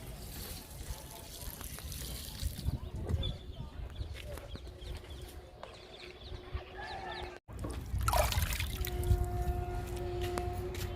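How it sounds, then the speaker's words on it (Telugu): Cooling liquid poured onto a potted lemon plant in summer gives a soft, steady trickle and splash that breaks off briefly, then resumes alongside outdoor bird chirps and a distant rooster. "లిక్విడ్ ఇస్తున్నాను."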